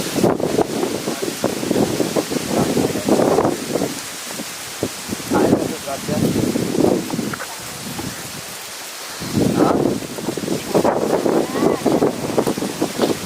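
Wind buffeting a microphone by the sea at low tide in a small coastal village, loud rumbling gusts in bursts with brief lulls; a voice talks faintly at times.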